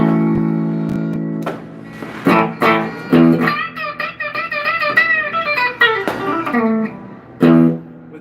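An instrument played through its bridge-side pickup, bright and slightly distorted, with a series of plucked notes and a sustained melodic line that bends and fades, close and fairly loud with no voices.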